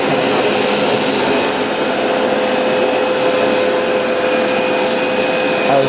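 A Hoover SmartWash automatic carpet cleaner runs close up with a loud, steady whir and motor whine, broadband and unbroken for about six seconds, with no voices.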